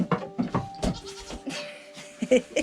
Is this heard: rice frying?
no